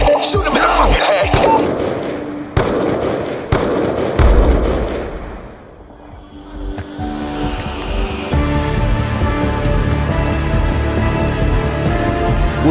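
Gunshots in the Black Ops 2 campaign, a series of loud, sharp cracks in the first seconds, followed by a quieter stretch and then a rumbling, tonal game soundscape.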